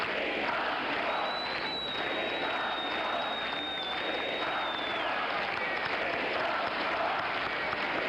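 A packed hall at the 1976 Democratic National Convention roars with cheering and applause, a sustained wash of many voices and clapping with a thin whistle-like tone riding above it for several seconds.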